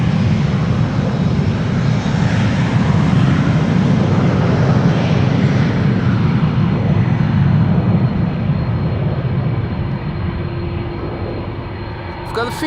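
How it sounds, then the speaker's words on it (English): A KLM Airbus A330-300 jet airliner departing Amsterdam Schiphol roars loudly and steadily, then gradually fades as it moves away. "This is KLM flight 691 to Toronto in Canada, an A330-300."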